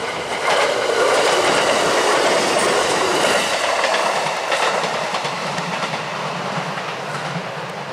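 A JR train runs past on a railway line right beside a burial mound site in a residential area, its steady rumble and clickety-clack of wheels filling the whole stretch at close range, loud and continuous.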